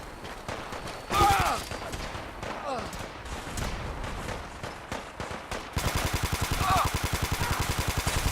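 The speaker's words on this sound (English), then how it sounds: "We go in shooting." Rapid bursts of automatic gunfire and a sustained fusillade ring out during a firefight in Fallout 4, loud and close, with game voices speaking over the shooting.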